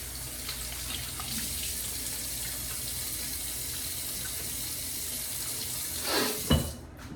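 Water runs steadily from a bathroom tap for wetting the face before shaving, a continuous close hiss with a brief splash near the end as it stops.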